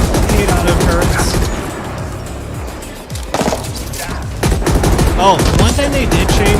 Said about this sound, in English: Okay, that's a frickin' auto turret. That's no bueno. I hate auto turrets.